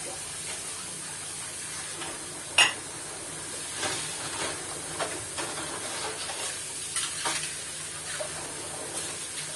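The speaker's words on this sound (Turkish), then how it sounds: "İlla ki o bulaşıklarım yıkanacak" Dishes clink and clatter under running water, with one sharp clank standing out among the softer scrapes and splashes, and nobody talking.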